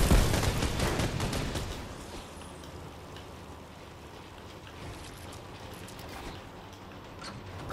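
Gunfire in the Fortnite video game, with a dense burst of loud rapid shots at the start that quickly falls away to a quieter rumbling background.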